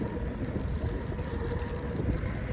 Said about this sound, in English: The wind is really powerful.